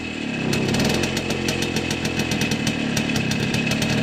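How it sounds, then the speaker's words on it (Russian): A two-stroke engine on a 1970 Minsk M105 motorcycle with barely 31 km on it revs up close by, a raspy buzzing drone with rapid popping pulses as the throttle is opened. "Ну, он уже работает, ребята, уже работает. Смотрите, я газу даю."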